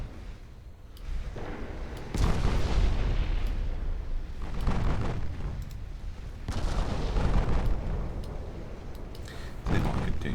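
Warship secondary guns firing at transports in a naval video game, heavy booming blasts rolling in repeated waves with rumbling low end, loud and continuous, with no one speaking.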